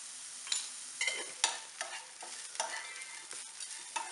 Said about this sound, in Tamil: வெங்காயம், காஞ்ச மிளகாய் எல்லாத்தையும் நல்லா வதக்கிடலாம்.